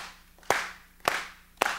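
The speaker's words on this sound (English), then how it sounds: "Clap on rhythm." A congregation at a church service claps in unison, three sharp, loud claps spaced evenly about half a second apart, with quiet pauses between and no voices.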